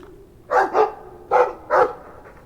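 A dog barks in Dragon Age 2, four short, close woofs arriving in two pairs over a quiet game backdrop.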